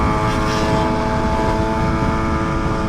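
A BMW HP4 Race superbike with a new full exhaust, an engine with no electronics running on slicks, drones loudly and continuously at a steady pitch for a few seconds with no talk over it.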